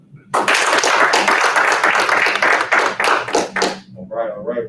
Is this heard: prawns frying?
no